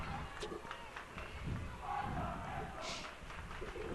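A student section at a high school basketball game, Raiders versus Gering, cheers and chants in a steady, fairly distant roar of crowd voices echoing through the gym, with scattered shouts and thumps.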